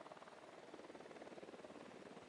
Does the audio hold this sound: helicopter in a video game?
yes